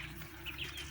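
Faint clucking and chirping from a group of chickens and caged birds nearby, a soft continuous murmur of fowl with a few brighter calls.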